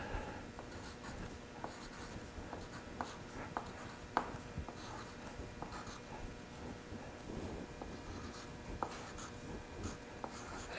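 A pencil or pen writes numbers in columns on paper, with close, faint scratching strokes and small taps repeating irregularly against a quiet background.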